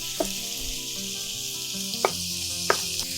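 Onions fry in a pan for a carbonara sauce with a steady, close hiss of sizzling oil, broken by a few brief crackles and stirring clicks, with no talking.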